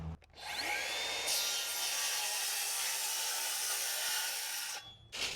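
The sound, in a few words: Sawzall reciprocating saw cutting tree wood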